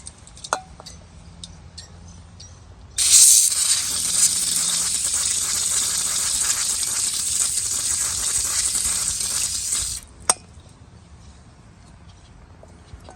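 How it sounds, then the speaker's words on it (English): Brake and parts cleaner sprayed from an aerosol can while servicing a Toro TimeCutter riding mower: one loud, steady hiss lasting about seven seconds that starts and stops abruptly, with a few light clicks before and after. "I'll use a little bit of brake and parts cleaner."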